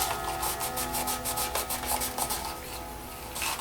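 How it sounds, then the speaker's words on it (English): An old sock rubs back and forth over a custom leather knife sheath, making a quiet, rhythmic series of close brushing strokes with a short pause near the end. "I'm just going to use an old sock here to kind of polish up the rest of it."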